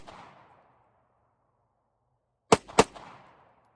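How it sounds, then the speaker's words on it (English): Two sharp handgun shots ring out in quick succession, loud and close, each followed by a short echoing decay, after a stretch of near silence. "So I'll go through that draw again and do a little bit more shooting"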